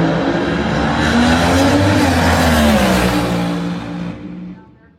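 Drag racing car on the strip, engine revving hard with pitch climbing as RPM rises, loud and sustained before fading away toward the end.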